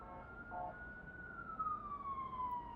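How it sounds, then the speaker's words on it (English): A police siren wails outdoors at a distance, its long rising and falling tone sweeping steadily over low street rumble, fairly faint and with no talk over it. "Don't mind the police noise."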